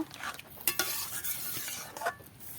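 Dhaba-style curry being stirred in a pot just after hot water goes in, a spoon scraping and knocking against the metal over a light bubbling sizzle, brief and close.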